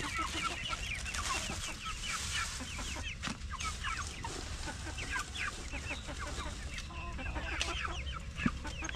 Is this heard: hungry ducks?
yes